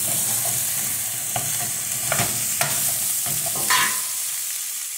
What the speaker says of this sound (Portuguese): Já vou acrescentar aqui, ó, a batata